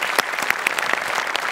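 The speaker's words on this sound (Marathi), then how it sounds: "त्यांच्यासाठी जोरदार टाळ्या" Studio audience applause at a Marathi TV comedy show, Maharashtrachi HasyaJatra, after a comic act; a short, dense burst of clapping with distinct sharp claps standing out, steady and fairly close throughout.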